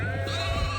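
A single bottle-fed lamb bleats close by in a field, one steady wavering bleat over a low background hum.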